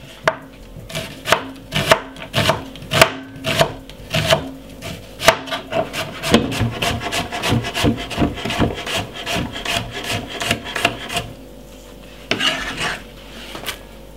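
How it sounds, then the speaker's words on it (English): A knife chops red onion finely on a board, a rapid run of sharp, close taps that thins into a denser, softer scraping patter before a few final cuts, with no talk. "the next thing we're going to cut up some red onion"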